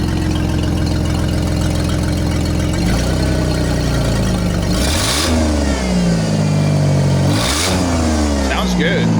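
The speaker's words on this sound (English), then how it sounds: "rev it up." A Jeep engine revs hard from a steady rumble, climbing and dropping in pitch through two loud throttle blips, close to the exhaust and continuous throughout.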